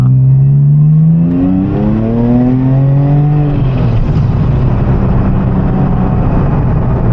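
Porsche 911 996 Turbo engine revving hard, a loud rising whine and growl that climbs over a few seconds then settles into a steady roaring drone with turbo noise, no voices.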